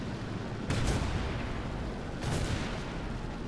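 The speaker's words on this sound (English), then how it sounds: "There's artillery on us." Artillery shells striking around a Maus tank in War Thunder, two heavy booming impacts about a second and a half apart, each rumbling briefly over a steady engine drone.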